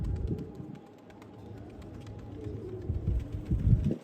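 A pigeon coos in low, soft repeated phrases, close by, with a little rustling around it and no talk.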